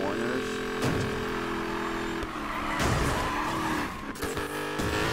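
Racing cars roar close together through corners in Need for Speed Payback, with engines droning steadily and tires squealing and skidding in bursts.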